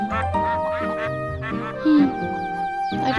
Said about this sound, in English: Last time when I played, we don't have ducks, and now we have loads of ducks.